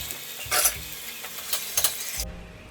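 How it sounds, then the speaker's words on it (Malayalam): Soya kabab cutlets fry in hot oil, giving a steady close sizzle with a few louder bursts of stirring and utensil scrapes before the frying noise cuts off abruptly near the end. "ഇതുപോലെ ബാക്കിയുള്ള അതും കൂടി വറുത്തെടുക്കാം."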